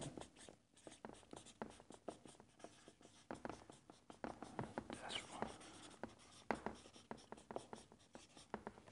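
A pen scratches and taps across a diagram in quick irregular strokes, close and fairly quiet, steady for several seconds with brief pauses between marks.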